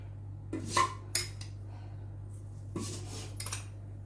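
A spoon clinks and rattles against other cutlery in a few short metallic bursts, close by in a quiet kitchen with a steady low hum underneath, while baking a lemon cake.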